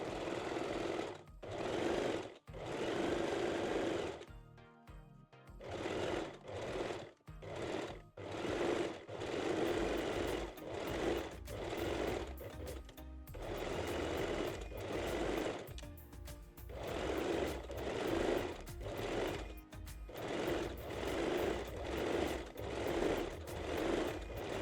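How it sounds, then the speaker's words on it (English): A sewing machine runs a zigzag stitch to attach fold-over elastic on a wire-free lace bra, its motor whirring in long steady bursts separated by brief pauses, loud and close with no talking. "I'm using a zigzag stitch as always and gently stretch the elastic as you go."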